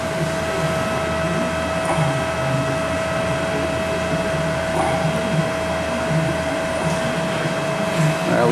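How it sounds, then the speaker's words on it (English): The compressor of a 25-ton Carrier Aquasnap air-cooled low-temperature chiller runs with a steady mechanical whine and whirring drone, constant and fairly loud throughout, with no voices over it. "what you heard there is the initial compressor turning on"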